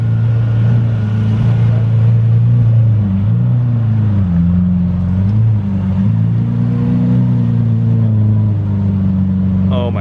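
A 2017 Ford GT engine rumbles loud and close, its deep tone rising and dipping in short revs over a continuous throaty drone.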